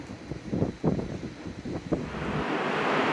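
Strong wind at sea roars across the microphone with gusty low rumbles, rising to a steady broad rush by the end, like open sea weather, aboard a cruise ship in heavy swell.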